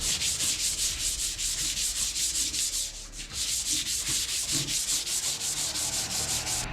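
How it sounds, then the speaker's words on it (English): Steady hand sanding of a motorcycle part, a continuous rasping scrape with rhythmic back-and-forth strokes, close and loud throughout, with a brief pause midway. "You ain't sanding fast, Carl."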